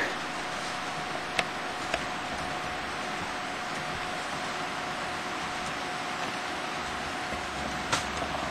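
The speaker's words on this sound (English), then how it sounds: "just to prove that these long trains are running around this layout completely" Long model freight trains run around a layout with a steady, even rumble of wheels, continuous throughout with a couple of faint clicks.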